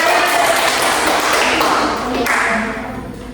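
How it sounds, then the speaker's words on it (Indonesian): Audience applause in an Indonesian classroom after a group presentation, a dense continuous wash of many hands clapping at fairly close range that fades slightly toward the end. "Kasih tepuk tangan."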